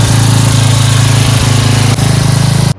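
A flooded Kawasaki FC420V pull-start engine runs loud and close with a steady, rapid mechanical chug, dipping briefly near the two-second mark before cutting off abruptly at the end.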